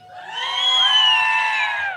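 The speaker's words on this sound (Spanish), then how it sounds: "Ahora, unos gritos de júbilo, hermanos" A church congregation on Bible Day in Santa Rosa, Morelia lets out a loud shout of joy together, many voices rising and holding a long cheer for about two seconds before it fades.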